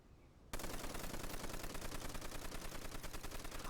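An M1919 machine gun in Call of Duty: World at War opens up suddenly after a brief quiet moment, then fires a steady, rapid stream of loud, close shots without pause.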